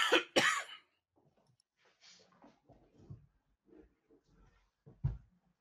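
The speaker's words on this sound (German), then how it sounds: "damit wollte ich meinen Husten unterdrücken" A person coughs sharply twice at close range, the bursts loud and rough, then quieter throat clearing and breathy, scattered small sounds follow, ending with one more short cough-like burst.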